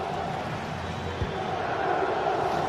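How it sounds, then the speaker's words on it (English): Steady stadium crowd roar from a football video game, a dense continuous wash of massed voices holding at a constant level, with one brief low thump near the middle. "The crowd certainly think so. Just listen to them."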